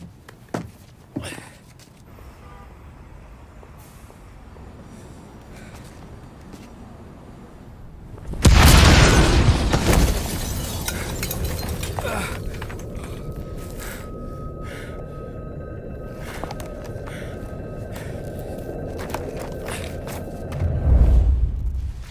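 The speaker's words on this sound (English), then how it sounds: "Gunfire and an explosion reported at the Corleone Hotel." In the video game Mafia: Definitive Edition, a sudden loud blast erupts midway, followed by a lingering rumble and scattered sharp cracks of gunfire, then another low boom near the end.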